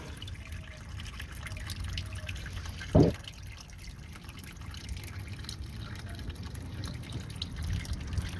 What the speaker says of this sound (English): it's through leaking now, and that's pretty much all the transmission fluid came out